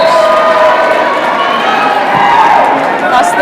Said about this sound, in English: can hear the crowd. Cheering their people on.